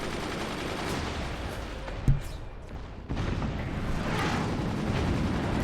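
Cannon shots in the strategy game Forts during a 2v2 match, with a sharp impact blast followed by rumbling booms and a dense, noisy battle wash that continues throughout.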